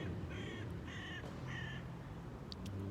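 A crow caws outdoors from a rooftop setting, three harsh repeated calls in a steady rhythm at moderate distance over a constant low rumble of traffic and town noise.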